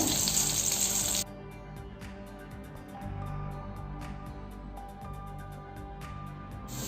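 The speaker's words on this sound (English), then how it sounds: "in this ghee we are going to deep fry all the paneer cubes" Cubes of paneer deep-frying in ghee in a non-stick pan over a low-medium flame, a steady close hiss with faint scattered crackles and no talking.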